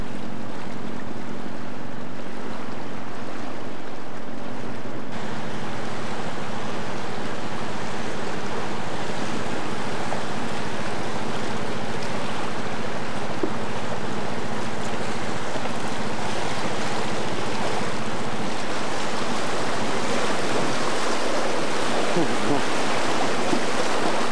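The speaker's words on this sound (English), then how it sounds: "Water's getting a little bit faster here as we come along, starting to pick up speed." Rushing water churns steadily and loudly around a moving boat on a fast-flowing river in Northern British Columbia, a broad constant wash with a motor hum underneath and some wind.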